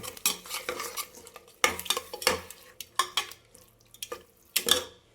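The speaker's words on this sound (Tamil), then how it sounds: "தயிரை ஊற்றி ஒரு கலர் கிளறிக்கிங்க" Yogurt is stirred into a hot cooking pan, with a spoon scraping in repeated short strokes, separated by brief pauses, over a soft sizzle, close and fairly loud, with no voices.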